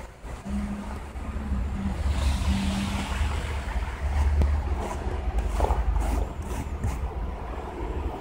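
A car engine idles steadily to warm up on a snowy winter day in Kyiv, a low continuous rumble with a faint hum holding at even loudness throughout.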